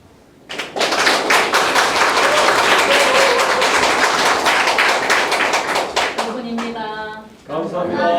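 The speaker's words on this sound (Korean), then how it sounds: "여러분 큰 박수 부탁드리겠습니다." An indoor lecture audience in Busan claps loudly for a singer's performance. Dense, sustained applause runs for about seven seconds, then fades as a voice begins speaking.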